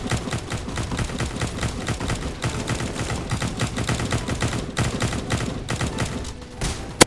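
Rapid, continuous gunfire from soldiers in a Roblox zombie tycoon battle game, dense overlapping shots and bursts filling the whole stretch at steady loudness, with one sharper crack near the end and no talking.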